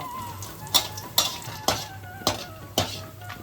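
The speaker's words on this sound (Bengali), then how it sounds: "বড়িগুলোকে ভালো করে ভেজে নিতে হবে" Homemade urad dal bori frying in mustard oil: a low, steady sizzle with five sharp spatula clinks against the pan at roughly even intervals, close by.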